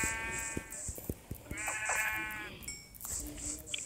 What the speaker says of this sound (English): I really hate sheep.